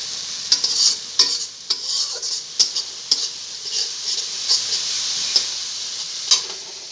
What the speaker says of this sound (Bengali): দেখুন মশলা থেকে তেলও ছেড়ে দিয়েছে।